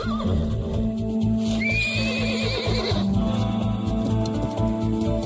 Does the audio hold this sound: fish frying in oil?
no